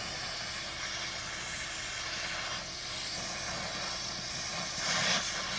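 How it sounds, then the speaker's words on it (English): A jewelry torch flame roars steadily while melting leftover silver scrap from screws into a puddle for lost wax casting, a continuous broadband hiss that swells briefly near the end. "We're going to use our torch to melt our silver."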